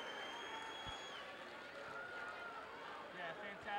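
Basketball playoff crowd in Norristown filling a gym with steady cheering, shouting and general roar during a timeout, a continuous dense wash of voices with a few sharper bursts near the end.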